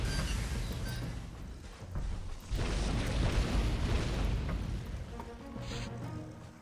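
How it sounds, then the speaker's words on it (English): A deep, rumbling explosion from the video game Turok 2 swells through the whole stretch, with a heavier burst near the middle and a sustained roar that slowly fades, loud and dense with no clear speech on top. "Explosion."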